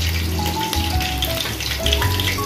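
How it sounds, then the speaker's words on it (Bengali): Chicken pieces fry in hot oil for chilli chicken, giving a continuous sizzle with crackling pops and spatters, close and fairly loud. "এপিট ওপিট ভেজে নেব ভালো করে"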